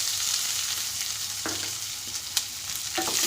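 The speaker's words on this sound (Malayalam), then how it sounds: "ഇനി നമുക്ക് അതിലേക്ക് ഉള്ളി ഇട്ട് കൊടുക്കാം." Onion dropped into hot oil with browned lentils and mustard seeds, frying in a steady bright sizzle with occasional spoon scrapes and pops, close and continuous.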